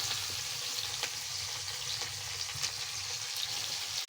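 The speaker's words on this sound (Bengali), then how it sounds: "এখন আমি পেঁয়াজটা তেলে দিয়ে দেবো" Onion dropped into hot oil in a wok for a chicken curry crackles and sizzles continuously and fairly loudly, with scattered small pops throughout and no voices.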